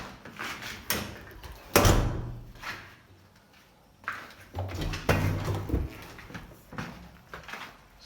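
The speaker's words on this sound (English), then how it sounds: "this is the front balcony door" A steel balcony door is handled, giving several thumps, clunks and sliding knocks spread irregularly, with a couple of louder heavy bangs as it shuts.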